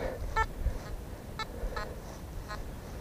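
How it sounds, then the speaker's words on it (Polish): A metal detector sounds a few short tonal beeps with buzzy harmonics, spaced about a second apart over a quiet outdoor background while treasure hunting. "Jakiś głęboki sygnał."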